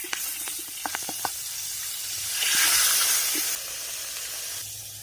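Steady hiss of chicken frying in hot oil, swelling louder midway, with a few sharp crackles and pops early on.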